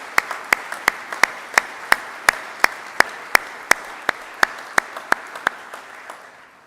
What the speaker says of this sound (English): why don't we give them a well-deserved round of applause